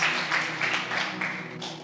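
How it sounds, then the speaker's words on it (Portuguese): A church congregation applauding during a worship service, a short burst of steady mixed clapping heard at moderate distance with a faint voice underneath. "Aplauda ao Senhor."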